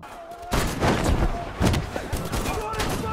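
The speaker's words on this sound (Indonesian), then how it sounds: "pasukan penembak Jepang sudah siap di belakang, menembak dengan senapan" Rifle fire from Japanese riflemen in an action-film battle scene rings out in loud, rapid, overlapping volleys with heavy thumps, continuous and chaotic, with a voice speaking beneath it.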